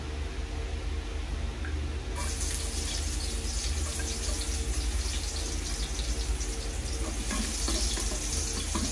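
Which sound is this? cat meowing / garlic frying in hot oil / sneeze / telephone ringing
garlic frying in hot oil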